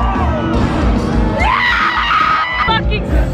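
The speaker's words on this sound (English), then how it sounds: "the most obnoxious screaming you will ever hear" Loud, frantic screaming and yelling from festivalgoers at the Firefly Music Festival, close by, with overlapping voices, whoops and shrieks over a dense, noisy crowd.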